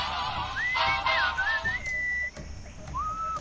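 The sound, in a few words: enchanting whistling in the video game Sam & Max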